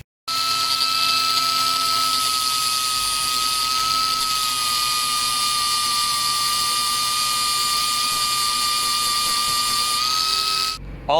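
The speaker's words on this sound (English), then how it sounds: "all of the grinding sparks" An angle grinder cuts down bolt material while a Beetle gearbox is being fitted, giving a loud, sustained, high-pitched whine. It stays steady for about ten seconds and then spins down. The source is close, with no talking.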